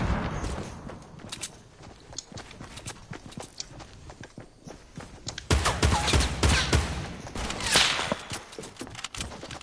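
Gunfire in a PS4 shooter: bursts of rapid shots and sharp cracks running throughout, growing louder and denser in the second half, with no talk over them.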